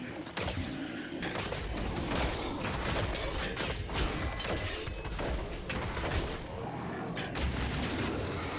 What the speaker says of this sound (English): Activated all these turrets earlier.